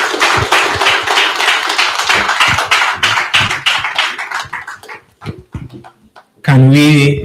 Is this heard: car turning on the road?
no